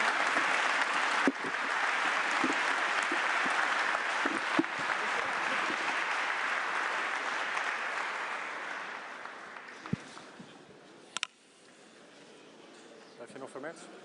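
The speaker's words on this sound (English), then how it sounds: "One more applause." Crowd applause at a gathering of EU leaders in Antwerp, a sustained wash of clapping that slowly fades, with a few louder nearby claps and scattered claps and voices at the end.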